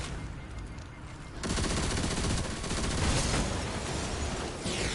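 Rapid SMG fire in Destiny 2: Lightfall, a dense, continuous rattling burst that grows louder and more sustained after a quieter opening, close and harsh.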